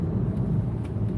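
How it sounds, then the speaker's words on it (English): Car cruising down a road at the speed limit, a steady low interior rumble of engine and tyre noise, close and constant with no other sounds. "I'm just driving down the road"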